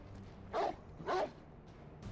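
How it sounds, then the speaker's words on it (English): A dog companion barks twice in Final Fantasy XVI, two short, fairly loud yaps about half a second apart over a low game ambience, with no talk. "Why was she barking?"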